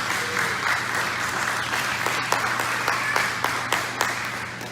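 A church congregation breaks into sustained applause, a dense wash of clapping that fills the room at steady loudness with a few sharper individual claps standing out near the end.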